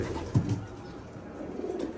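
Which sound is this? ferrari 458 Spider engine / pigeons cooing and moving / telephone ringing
pigeons cooing and moving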